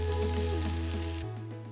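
Boiled peas are tipped into a hot frying pan with green chilli, giving a steady close sizzle that drops away abruptly near the end, over a low background hum.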